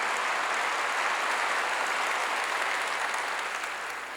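A crowd applauds steadily, a dense wash of clapping that holds throughout and fades slightly at the end.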